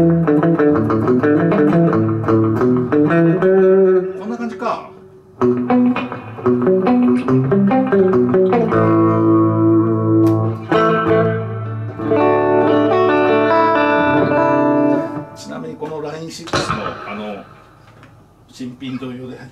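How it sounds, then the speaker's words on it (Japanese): Electric guitar, a Japanese-made Mosrite Ventures model with maple body and EMG pickups, playing chords and melodic lines drenched in tape echo, repeats trailing after each phrase, loud and continuous with a few brief pauses. "リバーブっていうか、このテープエコー、あ、この感じ"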